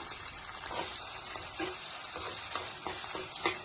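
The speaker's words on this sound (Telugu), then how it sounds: "ఇప్పుడు ఉల్లిపాయ ఆనియన్ వేస్తున్నాను" Onion going into hot oil already crackling with curry leaves, green chillies and crushed garlic for a cluster bean and moong dal curry, giving a steady sizzle with occasional light stirring clicks and no talk.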